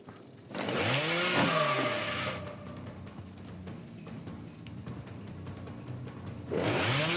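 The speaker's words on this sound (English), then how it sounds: "And don't rely on your chainsaw either." Chainsaw revving in the Dead by Daylight video game, a loud roaring burst at the start that fades to a lower idle hum, then surges loudly again near the end.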